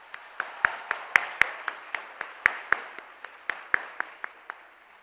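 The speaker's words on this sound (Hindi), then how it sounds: "तालियां" An audience at a youth interaction event with India's finance minister claps for the country's youth, heard as crisp, loud, evenly spaced claps in a steady rhythm, about three per second, over a faint background hum.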